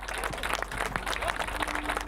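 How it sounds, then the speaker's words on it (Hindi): Dense, steady applause from a crowd at a political rally in Kolkata, continuous clapping with rising and falling texture, moderately loud and close, with a faint constant tone underneath. "फिर से तालियों का उत्साह।"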